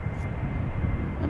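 A steady, loud roar of a KLM passenger jet's engines arriving from Frankfurt at Amsterdam Schiphol Airport fills the short stretch, broad and constant, with no speech.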